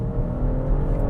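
BMW X5 50e hybrid SUV under hard acceleration as its engine kicks in, a close, steady low engine drone and hum with slight surging, heard alone for about a second.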